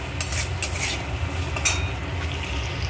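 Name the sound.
potatoes stir-fried in hot oil for Bengali duck egg recipe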